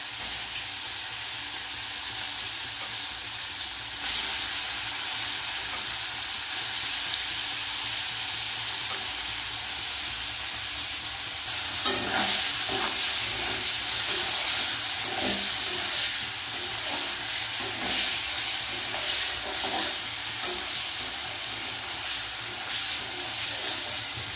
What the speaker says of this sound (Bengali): পনিরটা একটু ভেজে নেব।